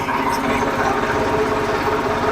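A tractor engine chugs steadily close by during the cleaning of a cow farm, a continuous rhythmic idle knock without voices.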